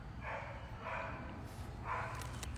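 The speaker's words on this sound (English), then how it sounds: "What's up with these dogs over here?" Dogs bark outdoors a few times at a distance, three separate soft barks spaced about a second apart over steady background hum.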